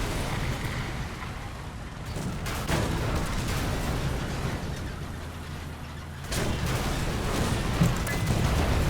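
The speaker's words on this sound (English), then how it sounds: "Oh, that's just artillery." Artillery fire in the War Thunder tank game, a sustained rumbling barrage of booms and blasts rolling on with a sharp surge partway through, loud and continuous without talk.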